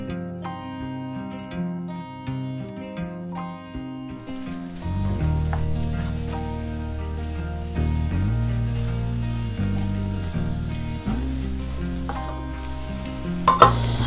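Spiced minced meat (keema) frying on a stove, a steady broadband sizzle that swells and stays loud over light stirring, with background music throughout.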